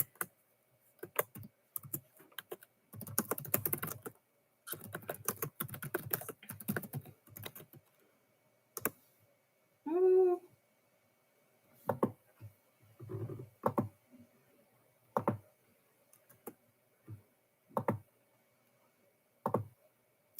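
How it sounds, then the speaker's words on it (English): Typing on a computer keyboard in bursts of rapid clicking keystrokes, with pauses and isolated key taps between runs, fairly close and alone. "I'm short, so I gotta stand up if I'm typing."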